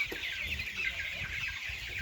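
Fourteen-day-old broiler chickens on a farm, being weighed, cluck softly and repeatedly nearby, quiet against a steady background hiss.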